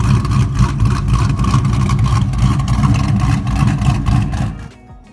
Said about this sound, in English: I got addicted to the chop from the cam.